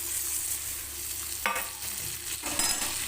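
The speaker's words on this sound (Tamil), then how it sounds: "இந்த வெங்காயம் வதக்கணும் இல்லையா அதை போட்டுக்கலாம்" Onions sautéing with ground masala in a pan for puliyodharai, a steady close sizzle with scraping stirs of a spoon midway and near the end, no voices.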